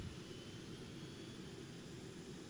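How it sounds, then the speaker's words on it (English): F/A-18 Super Hornet jet engines spool up during a cold start in Arma 3, a steady broadband roar with a low rumble that holds at even loudness throughout, with no voices. "Now that the engines are spooling up, we can turn our APU off."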